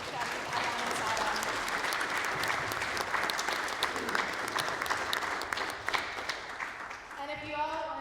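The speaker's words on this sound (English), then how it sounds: "let's just give one more thank you and round of applause to Sharif, Adan, and Sara" A college teach-in audience gives a sustained round of applause for the speakers, dense and even, with a voice starting to speak near the end.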